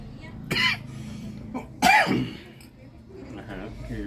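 A person at a Sunday tamale market in Ajalpan, Puebla, gives two sharp coughs close by, a few seconds apart, with faint voices and market noise underneath.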